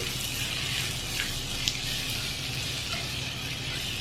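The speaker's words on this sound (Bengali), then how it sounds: "এভাবে করে দুই থেকে তিন মিনিট আমি এগুলোকে মেরে ফেরে ভেজে নিচ্ছি" Snake gourd frying in a pan as a Bengali-style bhaji, a steady, soft sizzle running throughout with no talking, only faint stirring ticks.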